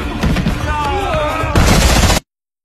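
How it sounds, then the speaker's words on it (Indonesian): Loud, rapid bursts of gunfire fill a gunfight scene in the action film Triple Threat, with an intense second volley layered over other action sounds before cutting off abruptly into silence. "dan baku tembak pun terjadi."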